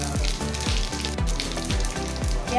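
Whole cumin seeds sizzle in hot oil for a Bengali prawn malai curry, a bright, continuous crackle running over a steady, rhythmic low thumping beat.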